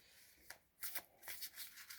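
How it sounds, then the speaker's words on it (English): A deck of tarot cards shuffled up close, several quick riffling bursts of card edges flicking together, fairly quiet with short pauses between them. "One more shuffle."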